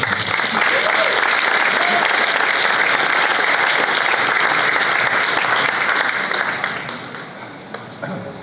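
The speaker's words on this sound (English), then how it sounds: "give it one more round of applause" A large crowd at an awards ceremony applauds loudly and continuously for several seconds, then the clapping thins and fades near the end.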